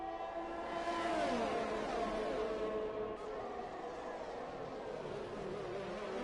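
Several race cars accelerate together in a sim racing game on a Baku-style street circuit in Azerbaijan. The engines whine and climb in pitch, staying faint and steady at a distance.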